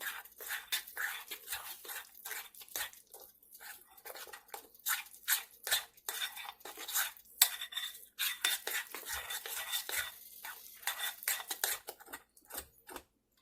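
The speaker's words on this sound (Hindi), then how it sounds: "बस आपने ऐसे थोड़ा थोड़ा सा वाटर डाल के इसको जो है वो मिक्स करते जाना है।" Katlama dough for a Lahori street-food recipe is mixed by hand in a bowl as water is added a little at a time, giving soft, repeated clinks and scrapes in an irregular rhythm, fairly quiet and close.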